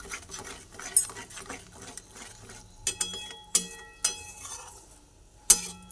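A pointed gourd dish with salt being stirred in a pan, with irregular scraping clinks of a spoon against metal, some sharp, close and moderately loud, no voices.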